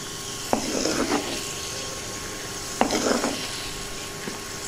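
Raisins frying in ghee for a traditional bottle gourd halwa, a steady close sizzle broken by two clear stirring scrapes of a spoon against the pan, with no talking.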